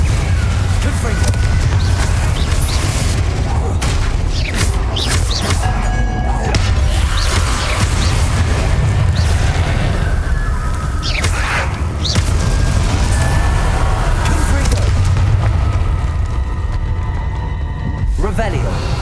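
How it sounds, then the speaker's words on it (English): Repeated Confringo explosive spell blasts during a fight with Inferi at San Bakar's Trial in Hogwarts Legacy: loud booming bursts and crashing hits scattered over a constant low rumble, with occasional game vocal sounds mixed in. "Confringo!"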